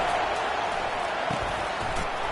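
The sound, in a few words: stadium crowd getting loud, college football video game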